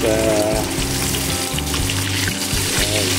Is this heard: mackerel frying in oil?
yes